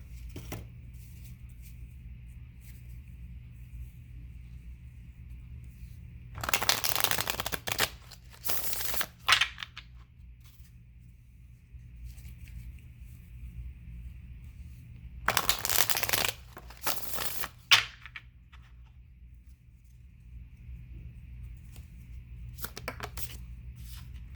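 A deck of tarot cards is shuffled in two separate bursts of riffling and flicking, close by. Quiet pauses with faint background hum separate them, and a brief softer shuffle comes at the end.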